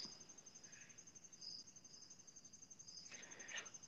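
Crickets chirp steadily from outside a window at night, a faint continuous high trill with a few brief, brighter chirps standing out.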